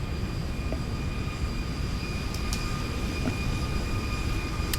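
Steady airplane engine drone inside the X-Plane 11 flight simulator, a constant broadband roar with faint tonal whine, unchanging and close throughout with no talking.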